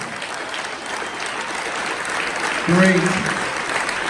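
Recipients at the 2018 Quest for Excellence awards get a standing round of applause, a broad roar of clapping that builds slightly while a voice briefly cuts in near the end.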